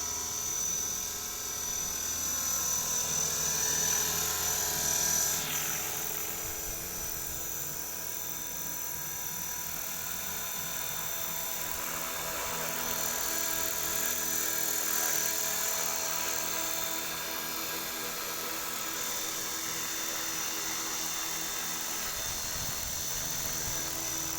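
A radio-controlled Bell 206 model helicopter flies nearby, its rotor and motor giving a steady, loud whine and buzz that stays constant with slight swells for over twenty seconds.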